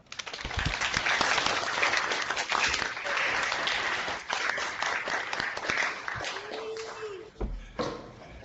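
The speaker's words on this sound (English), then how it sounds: "join me in giving a warm round of applause to Pro Football Hall of Famer" Warm round of applause greeting Pro Football Hall of Famer Lem Barney, steady clapping from a crowd that fades near the end, with a brief voice and a mic bump at the close.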